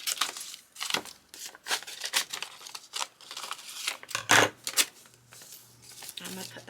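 Paper being cut with scissors to separate a section as craft scraps, crisp snipping and crinkling strokes up close, intermittent with brief rustles throughout.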